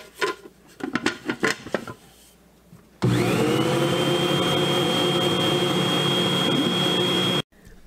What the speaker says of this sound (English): I'm using my cookie paddles on here because it's going to get thick and I want it to be able to go through the beaters and still mix well.